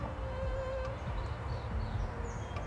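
A low, continuous buzz from many honey bees hums close by at an open hive, with faint higher whines drifting in and out.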